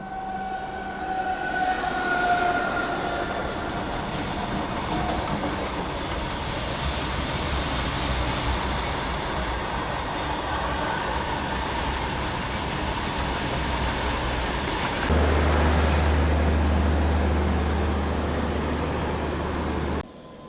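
A freight train rolls past steadily on India's Dedicated Freight Corridor, a loud, continuous rumble and clatter of wagons lasting throughout, with a deeper heavy drone joining near the end before it cuts off.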